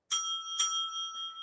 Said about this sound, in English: When your time is up, you'll hear this bell.